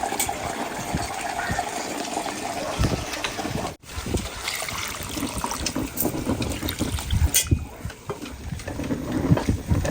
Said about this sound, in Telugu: వాటర్ పోయాలి.